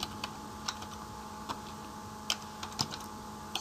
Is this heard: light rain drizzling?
no